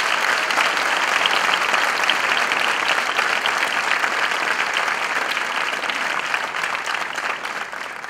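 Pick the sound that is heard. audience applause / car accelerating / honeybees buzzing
audience applause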